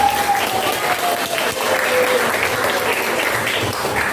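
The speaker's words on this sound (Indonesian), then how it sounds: "sebelum ditutup kita tepuk tangan terlebih dahulu" A classroom of students applauds together before a lesson closes, a dense, sustained clapping that fills the room at steady loudness for several seconds.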